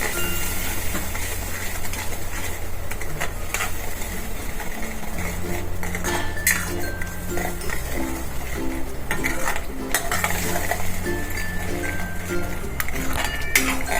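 A spoon stirs turmeric, coriander-cumin powder and garam masala in a pan for dum aloo, making repeated metallic clinks and scrapes over a steady background hum.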